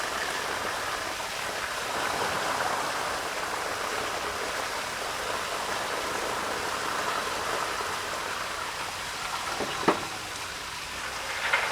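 Water poured out of a container of washed nuts gives a continuous, even rush like a small stream, steady and moderately loud, with a couple of brief knocks near the end.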